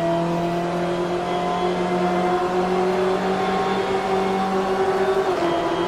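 A BMW M8 GTE race car howls in Assetto Corsa, its engine holding a loud, steady, tonal drone close to the listener, rising slightly in pitch before easing near the end.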